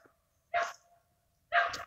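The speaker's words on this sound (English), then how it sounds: "You see the dogs are barking." Two sharp bursts of dog barking ring out about a second apart, moderately close, during an evening walk around a lake, with quiet in between.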